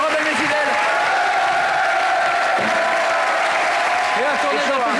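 A French TV studio audience applauds Philippe Candeloro with dense, sustained clapping that stays loud and even throughout, with faint cheers mixed in.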